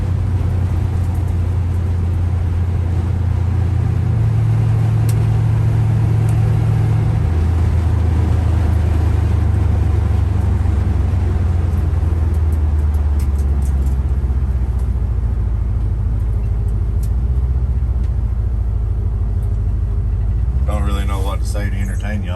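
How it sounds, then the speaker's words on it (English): Steady, loud road noise inside a 1970 Chevrolet C10 truck with an LS swap cruising with the windows cracked, a constant low rumble and hiss with someone talking over it. "Might have heard a little bit of road noise."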